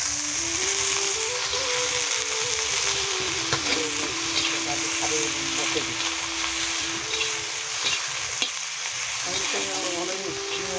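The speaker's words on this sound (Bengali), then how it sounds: "এবার পেঁয়াজ দিয়ে দেবো। পেঁয়াজটাকে নেড়ে নেবো ভালো করে।" Onions frying in hot oil in a village kitchen, a loud continuous sizzle with scraping and stirring strokes throughout, a low tonal hum running beneath, no speech.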